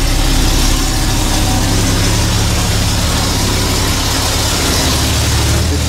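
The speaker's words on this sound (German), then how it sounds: "der Auspuff ist lang" An old Mercedes-Benz W111 Cabriolet engine idles loudly and steadily up close through a long exhaust, a deep rumbling throbbing evenly with no talk.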